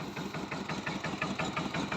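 A small four-wheel farm tractor with an 11-horsepower engine idling close by, chugging in a steady rapid rhythm with a rattling mechanical vibration and no voices.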